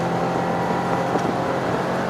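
A Volkswagen Arteon 2.0 TDI 4Motion diesel revs high at speed, giving a loud, even engine and road drone inside the cabin with no talk.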